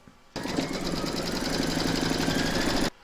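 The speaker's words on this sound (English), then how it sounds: "Pop your hoop into your machine and stitch round number 2 to secure it" An embroidery machine stitches the second round on a hoop holding batting for an in-the-hoop stacked snowman, a steady close whirring buzz with rapid needle rhythm that starts abruptly and runs about two and a half seconds before stopping.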